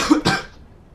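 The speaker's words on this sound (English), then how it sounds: "that was a cough." A single short, sharp cough up close, followed by a brief fading tail.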